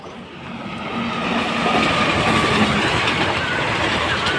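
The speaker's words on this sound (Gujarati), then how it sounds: "ટ્રેન તો વહી ગઈ" A train rolls through a village level crossing with a deep rumble that swells within the first second and a half, then holds as a loud, continuous roar with faint rail clatter.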